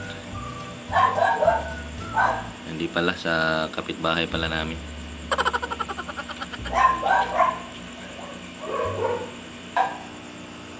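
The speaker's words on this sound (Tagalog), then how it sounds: "medyo maingay yung mga aso namin yan" Dogs bark repeatedly in short bursts, some close and sharp, mixed with yips, while a person talks in between.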